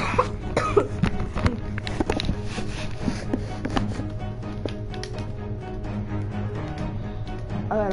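A person coughing up close, a few sharp bursts near the start amid clicks and taps, with other scattered knocks and tapping following.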